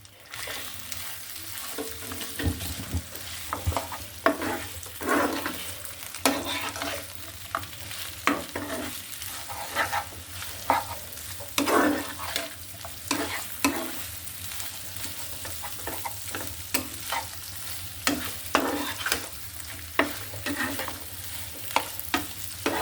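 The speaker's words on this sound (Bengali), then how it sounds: "মাংসটা আমি একটু ভেজে নিব" Beef fries in a pan with a continuous hiss and sizzle, broken by repeated scraping and clattering stirring strokes that come in uneven bursts, close and clear throughout.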